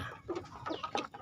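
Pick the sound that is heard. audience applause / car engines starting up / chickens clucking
chickens clucking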